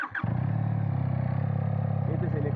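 QJMotor SRK 400 off-road motorcycle on its original stock exhaust, idling close by with a steady, even low rumble that continues throughout, after a brief rustle at the start.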